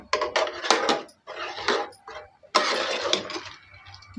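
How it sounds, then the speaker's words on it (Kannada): The metal lid of a pressure cooker holding cooked lentils, onion, tomato and radish is twisted and lifted off, giving several close clanking and scraping metallic bursts separated by short pauses. "ಈಗ ಕುಕ್ಕರ್ ಮುಚ್ಚಳ ಓಪನ್ ಮಾಡ್ತಾ ಇದ್ದೀನಿ"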